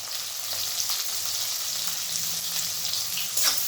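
Chopped onion fries in a pan for cheese Maggi masala, giving an even, continuous hiss of sizzling oil that stays close and fairly loud throughout, with no talking.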